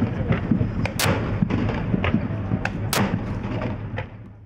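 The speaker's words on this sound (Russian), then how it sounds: "Приветственный выстрел звучит с корабля «Полтава»." A pair of sharp, booming ceremonial cannon salute blasts fired from the ship Poltava cut through a constant low outdoor rumble during a religious procession in Saint Petersburg, with fainter cracks scattered around them.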